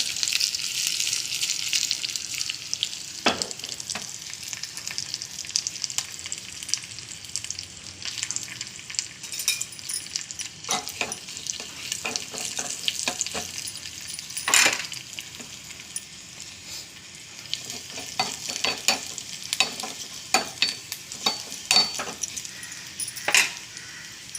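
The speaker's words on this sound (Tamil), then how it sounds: "வெங்காயம் பச்சை மிளகா வெள்ளைப்பூடு கடவுள் நம்பருப்பு கருகப்பில்லை இந்த மூணையும் போட்டு தாளிக்கிறேன்" Onion, green chili, garlic, chana dal and curry leaves sizzle and crackle in hot oil, with intermittent stirring scrapes and light utensil clinks against the pan.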